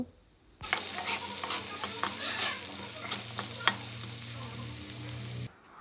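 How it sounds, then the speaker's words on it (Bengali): Potato pieces with turmeric stirred and fried in mustard oil, a steady loud sizzle with scraping spatula strokes and occasional clatters, starting abruptly and cutting off near the end, no talk. "আলুটা একটু ভালো করে নাড়াচাড়া করে ভেজে নেব"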